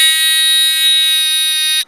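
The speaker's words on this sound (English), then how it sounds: "First of all, you can see the buzzer that makes the noise" An electronic buzzer inside an Arduino-built mole repeller sounds a loud, piercing, continuous tone for nearly two seconds, then stops abruptly.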